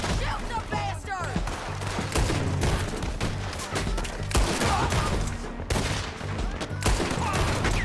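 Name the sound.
gunfire in the video game Red Dead Redemption 2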